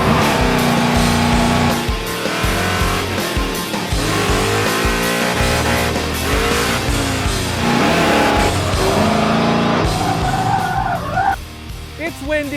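A 1990 Ford Mustang driven hard around a track lap: engine roar and tire squeal run continuously, close and loud, with wind buffeting the microphone throughout.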